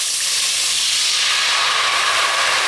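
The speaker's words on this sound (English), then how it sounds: "I'm gonna deglaze" Red wine hits a hot pan to deglaze it, releasing a loud, continuous, close steam hiss that holds steady throughout with no talking.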